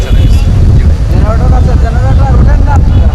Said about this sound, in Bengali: এই ঝড়ো হাওয়া হয়তো কিছুক্ষণ পরে বন্ধ হয়ে যাবে